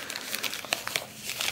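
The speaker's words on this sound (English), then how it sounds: "Cheapy cellophane packaging, so the cards are extra fucked up when they come out." Cheap cellophane wrapping on 1991 NFL Proset card packs crinkles in a short burst of sharp, close crackling at moderate loudness, with no talk.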